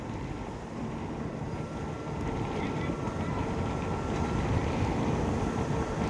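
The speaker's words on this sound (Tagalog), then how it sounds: "Kapag nagtuloy-tuloy yung lakas ng hangin" Steady, roaring strong wind at a seaport buffets the microphone throughout, a broad constant rush with low rumble, growing slightly louder toward the end.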